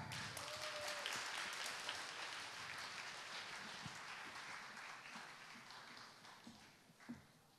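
Audience applause fills a hall at a 2010 youth music-competition award ceremony as a vocalist honoree comes on stage; dense, steady clapping that gradually thins and fades toward the end.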